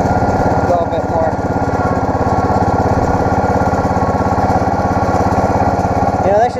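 The engine of a racing lawn mower, apparently a John Deere, revs loud and close in a steady, throbbing drone that holds for several seconds before easing off.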